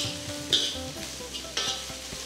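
Onion, green chillies and curry leaves frying in a pan, a steady close sizzle with faint stirring scrapes and a clink or two.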